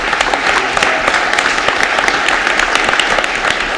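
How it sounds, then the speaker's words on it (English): An audience at a council meeting claps steadily in a dense, continuous round of applause that stays loud and even throughout. "So really, give them a huge round of applause."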